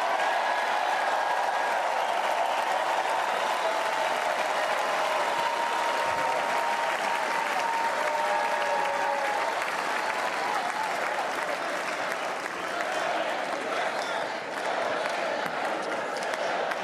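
A large crowd at the 2024 Republican National Convention applauds a speech, sustained loud clapping in a big hall that runs throughout with only slight swells.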